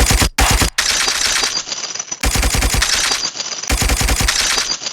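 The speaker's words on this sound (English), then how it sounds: "I added some gunshot effects, because how is it an OSAMASON beat without gunshots?" Rapid gunshot bursts from an FL Studio beat, loud machine-gun fire in three long volleys separated by short gaps. The shots sound processed and cut off sharply at each pause.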